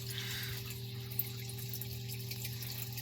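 A pump runs in a wooden sump pit in a basement, giving a steady low hum with a constant watery wash that carries on evenly throughout.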